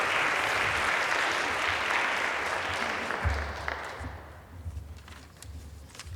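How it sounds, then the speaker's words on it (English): Audience applause at a civics boot camp graduation event, dense clapping that thins and fades after a few seconds into scattered claps. "You can clap now."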